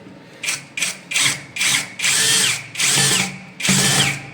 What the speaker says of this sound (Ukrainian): Коли витягли, дотягуємо ці болти.